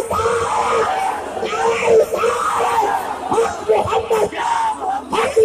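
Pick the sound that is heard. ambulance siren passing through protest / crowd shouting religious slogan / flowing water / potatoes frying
crowd shouting religious slogan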